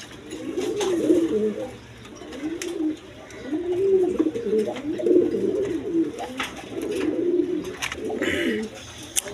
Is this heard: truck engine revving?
no